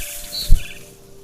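A single short, high bird chirp from the video game What Remains of Edith Finch, faint and alone, followed by a soft low thud.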